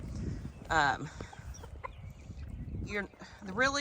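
Easter Egger chickens cluck in short bursts close by, mixed with other farmyard noise and a few louder squawks near the end.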